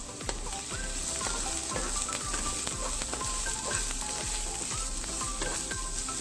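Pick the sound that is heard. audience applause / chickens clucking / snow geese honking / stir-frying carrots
stir-frying carrots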